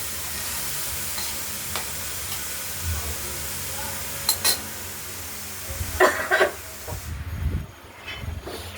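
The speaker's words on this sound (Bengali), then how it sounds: "এবার কষিয়ে নেব।" Ground spice paste with turmeric, for a katla fish curry with potatoes, is sautéed and stirred in a pan: a continuous hiss of frying with scraping stirs and sharper clinks of the utensil growing louder near the end.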